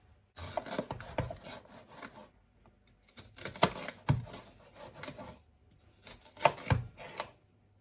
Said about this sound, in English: Now I'm going to be dicing my peppers.